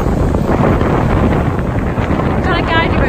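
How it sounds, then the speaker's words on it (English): Strong wind on Marbella Beach buffets the microphone in a continuous roar, loud and close, with a faint voice near the end. "It's a bit windy."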